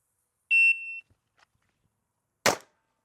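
A shot timer gives one long electronic beep during a handgun practice drill, followed about two seconds later by a single sharp, close pistol shot, with near-silence between.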